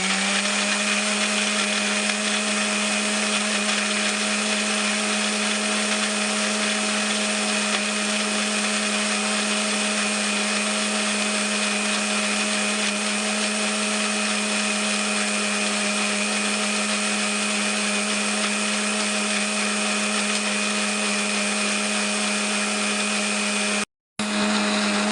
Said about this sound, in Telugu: మిక్సీ చేద్దాం.